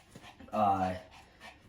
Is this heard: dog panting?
yes